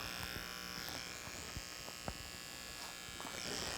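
Electric hair trimmer cutting hair around the ear, a steady close buzz with occasional soft clicks and brushing of the blade against hair.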